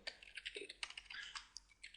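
Computer keyboard typing while data is entered into an Excel spreadsheet, with rapid irregular clicks of keys throughout, close and clear, no talking.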